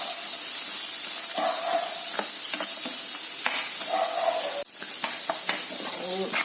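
Coconut pieces, ginger, garlic and curry leaves sauté in a pan, a steady sizzle with repeated scraping strokes of a spoon stirring through it.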